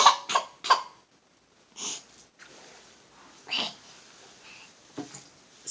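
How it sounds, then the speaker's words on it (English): Three quick coughs open the moment, close and fairly loud, followed by quieter breaths, a sniff and a few faint wheezy exhalations spread through otherwise near silence. "Pardon my cough"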